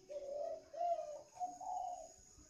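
A caged bronze-voiced dove coos in four smooth, rounded phrases in quick succession, close and clear against a quiet background.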